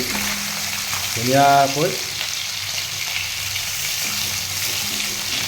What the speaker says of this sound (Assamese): এইটো এতিয়া এইখিনি ভাজি আছোঁ